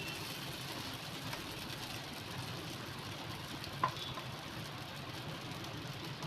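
Bread frying on a pan over a low gas flame while making moong dal bread cutlets: a steady, soft sizzle and crackle runs throughout at low volume, broken by a single faint click partway through.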